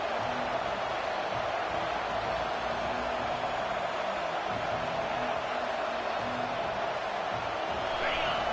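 A college football stadium crowd at a night game roars steadily as the defense tries to get a stop, a broad, constant wash of cheering held at an even level throughout.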